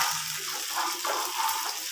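Fried chicken for chicken 65, tossed into a pan with a splash of water, sizzles and bubbles steadily up close with stirring scrapes over the top; no talking.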